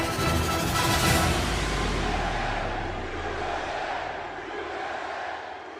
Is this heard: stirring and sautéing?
no